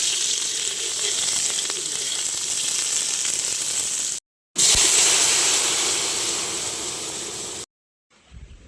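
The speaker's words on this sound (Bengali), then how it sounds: "তার জন্য দিয়ে দিচ্ছি পেঁয়াজ।" Onion fries in hot oil for tempering dal, a loud continuous crackling sizzle broken by two abrupt cuts, resuming strongly after the first and faintly after the second.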